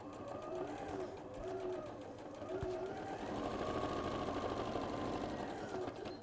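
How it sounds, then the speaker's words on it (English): A sewing machine stitches a jacket in a steady, continuous whirring run with slight speed swells, close and moderately quiet. "Okay, so I'm just going to sew this on."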